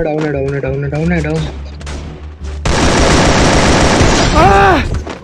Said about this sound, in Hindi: इतनी गोलियां चला रहे लोग हमारे बिना